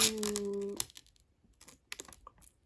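Protective film is peeled off a Perfect Diary x Sanrio MagicStay cushion compact: a close, steady tearing squeal for under a second, followed by scattered light crackles and taps.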